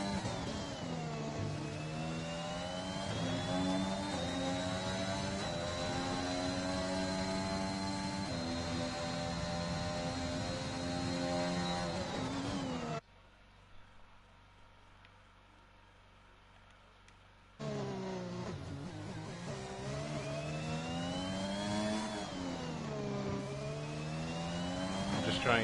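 A Formula 4 race car on a hot lap around Singapore in a racing game: a loud, high engine whine rising and falling through gear changes, cut out for a few seconds mid-lap before resuming.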